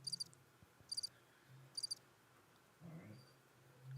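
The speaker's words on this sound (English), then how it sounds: "Crickets." Crickets chirp in short repeated bursts, three distinct pulses spaced about a second apart, fairly faint over a low background hum with a brief muffled thump near the end.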